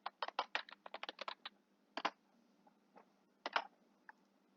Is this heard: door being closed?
no